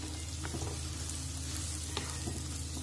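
Onions and peppers sauté in butter in a pan, giving a continuous soft sizzle, while a spoon stirs them with occasional light scrapes and taps, no voices.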